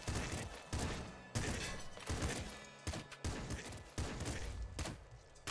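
Pop gun shots from the video game Nuclear Throne burst out in repeated loud, dense volleys with brief gaps between them, forward and alone, with no talk.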